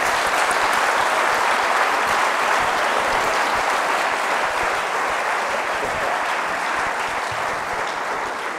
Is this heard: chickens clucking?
no